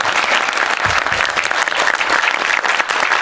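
An audience at a film screening Q&A breaks into sustained applause, dense and loud, a continuous crackle of many hands clapping close by.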